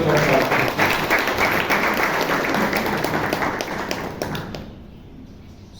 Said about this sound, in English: Please give Shashank a big round of applause.